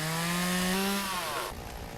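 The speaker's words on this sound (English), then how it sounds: "I'm going to cut it up. I'm not wasting fuel or anything like that in the chainsaw." A chainsaw cuts logs in the Lumberjack's Dynasty video game, its engine whining steadily and slowly dropping in pitch as it bites, then easing off near the end, loud and alone.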